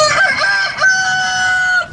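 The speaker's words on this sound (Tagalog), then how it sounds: "Kasabay ng pagtilawak ng manok ay ang pagsikat ng haring araw" A rooster crows once at sunrise, a loud, close cock-a-doodle-doo with a rising opening and a long drawn-out final note, heard alone.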